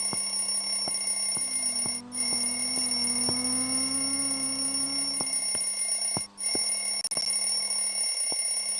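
A telephone rings inside a video game with a repeated electronic bell trill in steady bursts, separated by two short gaps, over a quiet humming background with no voices.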